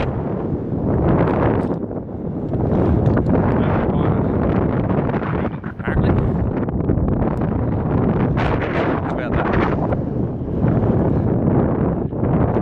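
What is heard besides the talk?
strong wind on a mountain summit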